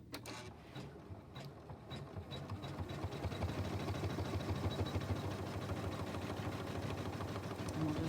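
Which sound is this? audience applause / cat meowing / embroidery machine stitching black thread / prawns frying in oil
embroidery machine stitching black thread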